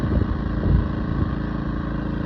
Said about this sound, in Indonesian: Di sini saya menunjukkan cara menghidupkan atau menyalakan mesin menggunakan remote